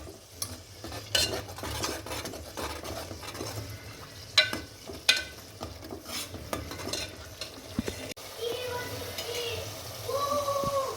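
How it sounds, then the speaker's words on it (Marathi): Masala for Khandeshi chicken rassa sautés in oil, a low sizzle under repeated scraping and clinking of a spoon against the pan, with a brief voice near the end. "व्यवस्थित तेल सुटोस्तोवर मसाला परतून घ्यायचा आहे"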